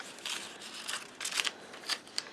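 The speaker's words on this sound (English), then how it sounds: "I will cut it out using my scissors" Scissors snip through folded white cardstock for a wedding card in a series of crisp, close cuts, irregular crunchy bursts with short pauses between them and no voices.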